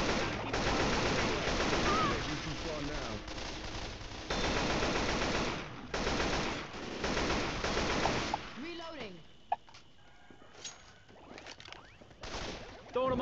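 Bursts of rapid automatic gunfire from Left 4 Dead 2 rattle loudly in long volleys, then thin out into scattered shots and game noise while players chat over voice.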